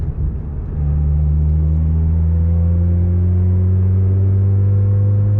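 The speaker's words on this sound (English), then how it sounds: "I push in the clutch and it dies" A Mazda RX-8 rotary engine sputters at a rough idle, then settles into a steady low droning hum after the clutch is pushed in, sounding loud and close with no talking.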